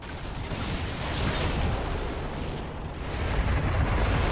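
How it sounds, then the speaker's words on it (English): Cranes blown up with explosives in Dragon Age: Inquisition, Trespasser DLC: a sustained, rumbling roar of blasts and crumbling debris, loud and dense, swelling again near the end with no speech. "Time to blow up more cranes"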